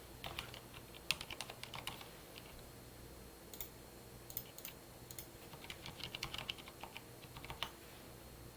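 A password being typed on a computer keyboard: faint, quiet key clicks in uneven bursts, with a few sharper taps scattered through.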